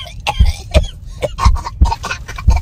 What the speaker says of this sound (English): Okay, stop coughing.